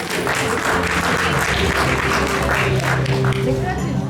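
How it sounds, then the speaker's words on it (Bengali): Audience applause at a Saraswati Puja stage performance, a dense, loud, sustained wash of clapping from a crowd lasting the whole moment. "ছোট্ট রাসবিহারী বসের জন্য আরেকবার হাততালি হয়ে যায়।"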